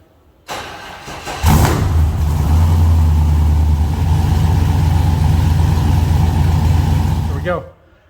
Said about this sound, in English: I'm gonna fire it up, let it run for 4 or 5 minutes